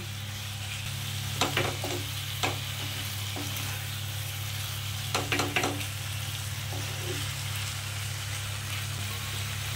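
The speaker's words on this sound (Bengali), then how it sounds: "এই চিকেনের এইটা দিয়ে আমি একটুখানি এটাকে ভালো করে কষবো।" Chicken pieces are stir-fried in a pan for a spicy chicken bharta, a steady low sizzle under a constant background hum, with a few sharp clinks of a spatula against the pan and no talking.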